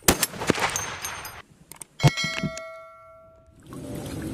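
A toy gun fires a rapid burst of sharp cracks, then another single loud shot with a rattling tail, followed by quieter clicks and a faint hiss.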